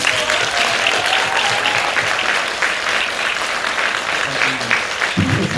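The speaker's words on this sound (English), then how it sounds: "another round of applause for David" A round of applause for David from an audience at a film Q&A in Munich, sustained dense clapping that holds steady for several seconds before a few voices break in at the end.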